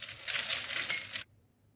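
Dry peanuts pour into a home blender or food processor jar in a steady rattling, crunchy stream for just over a second, then stop abruptly, with no talking.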